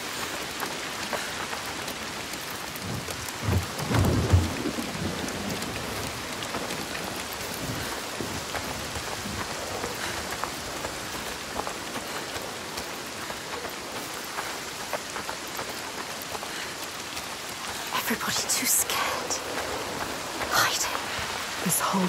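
A constant storm in Senua's Saga: Hellblade 2, with steady rain hissing across the whole stretch and a few louder, brief swells that could be distant thunder. Faint whispering voices sit underneath.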